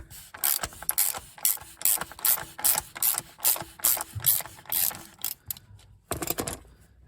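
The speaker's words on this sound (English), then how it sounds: "24mm hex, unscrew the oil filter cap" A ratchet wrench with a 24mm hex socket works loose the oil filter cap on a 2014 Kia Sportage 2.0 CRDI, giving close, crisp bursts of rapid clicking in a steady back-and-forth rhythm with short pauses, and no talking.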